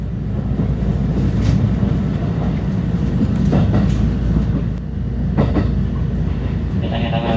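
A JR rapid train rumbles along the rails with a continuous low roar and occasional clatter, heard from inside the carriage, loud and steady throughout.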